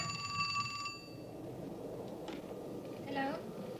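A telephone rings in a recreated nighttime scene from a 1981 documentary: a bright, trilling ring at the start, then quieter room sound and a voice.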